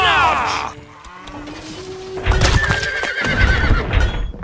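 Horses whinny and neigh loudly in the medieval strategy game Stronghold Crusader, with a long shrill call followed by more overlapping neighs and snorts over a low rumble.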